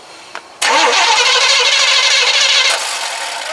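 A square body short bed truck cranks briefly, then catches and roars to life, running loud and steady before settling slightly toward idle.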